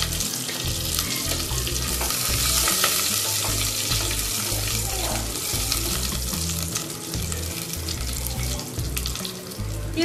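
Curry leaves and dried red chillies fry in hot oil for sambar, a loud, dense, close crackling sizzle that runs unbroken for the whole stretch with a low rumble beneath, no talking.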